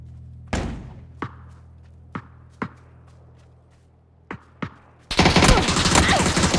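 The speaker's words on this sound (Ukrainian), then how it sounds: "Справа ще хтось стріляє." Gunfire in the battle royale game PUBG: several separate sharp shots, some single and some in quick pairs, spaced out over a few seconds, then a dense loud burst of sustained firing and noise at the end.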